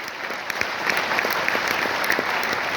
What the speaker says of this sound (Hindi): एक बार ताली चाहूंगा